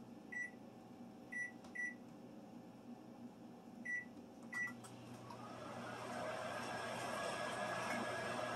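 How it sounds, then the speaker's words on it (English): A microwave oven runs on high heating a mug of macaroni noodles. A few short beeps come first, then a steady humming whir that grows a little louder and continues to the end. "we're going to put this in for 90 seconds on high"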